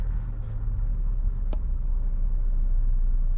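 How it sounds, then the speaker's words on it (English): A 2022 MG ZST 1.5L petrol hatchback engine running after a push-button start, a steady close rumble with a single sharp click partway through and no talking. "Press this button, vehicle start."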